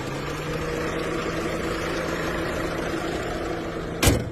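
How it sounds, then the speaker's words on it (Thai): A 2007 Chevrolet Captiva 2.0 diesel engine idles with a constant low hum, then a brief sharp clunk near the end as it cuts off. "เครื่องยนต์ดีเซล"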